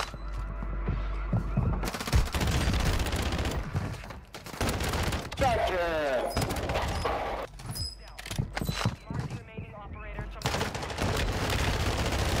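SMG firing in Warzone 2, bursts of rapid automatic shots broken by short pauses, loud and close, mixed with mechanical gun handling and other game effects.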